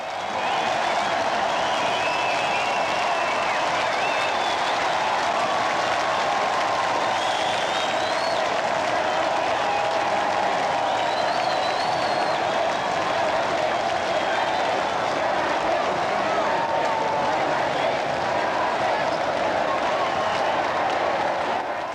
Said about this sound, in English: Which receives a roar of approval from the crowd, who called the couple back and back again onto the balcony